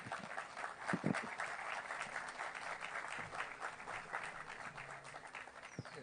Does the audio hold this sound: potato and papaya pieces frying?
no